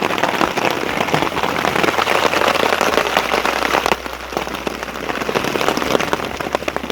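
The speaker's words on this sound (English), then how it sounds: "Oh, there's the hail." Heavy raindrops mixed with hail drum steadily on a space blanket draped over a laundry line outdoors, making a dense, loud, continuous patter with sharp ticks of impact and no talk.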